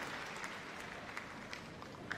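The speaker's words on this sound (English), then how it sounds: "the audience clapping" Audience clapping in the arena during Terrier Group judging at Crufts 2018 dog show, a soft, distant patter of applause continuing steadily.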